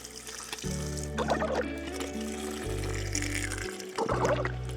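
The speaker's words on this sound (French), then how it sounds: "on va ajouter l'eau maintenant" Filtered water poured into a soup pot inside a camper van, a close, steady gush with a few splashy bursts as the stream lands, no one speaking over it.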